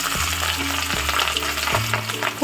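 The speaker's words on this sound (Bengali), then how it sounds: "এখানে সুন্দর করে মাছ ভাজা হচ্ছে" Hilsa fish fry in hot mustard oil in a pan with a loud, steady sizzle that crackles and spits close up, with no talk.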